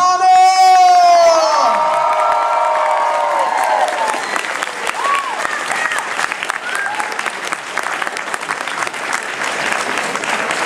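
Large convention audience applauding and cheering for a guest at a fan panel, loud sustained clapping with whoops and shouts, a voice introducing over the start before the crowd noise takes over and stays dense throughout.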